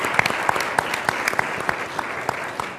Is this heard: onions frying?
no